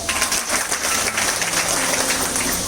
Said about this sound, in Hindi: तो इनके लिए तालियां हो जाए